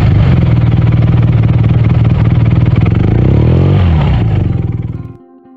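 A BMW R nineT motorcycle engine roars loud and close on a road through Vesuvius National Park, holding a steady throaty idle, sweeping in pitch as it revs, then cutting off abruptly near the end.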